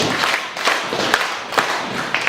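A youth drum corps stomps and claps in a steady group rhythm, with dull floor thuds mixed with sharp, ringing hand claps repeating evenly and close by.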